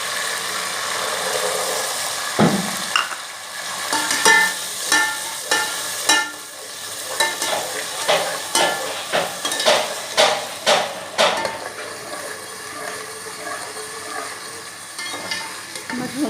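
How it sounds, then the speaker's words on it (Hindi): Green peas sizzle in a hot pan as a spoon stirs them, striking the metal in a fairly regular series of loud, close knocks and scrapes over a bright frying hiss, then easing to a softer sizzle. "मटर को थोड़ा सा भून के"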